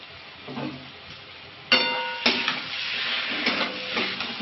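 Spices and turmeric sizzle as they are sautéed in a pan for a Bengali bhetki fish curry, a steady close hiss with a few sharper spits and the clatter of stirring.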